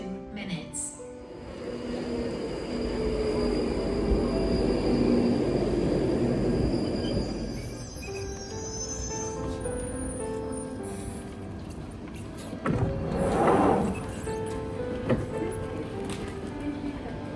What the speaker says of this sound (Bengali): টিউব মানে এখানকার আন্ডারগ্রাউন্ড ট্রেন।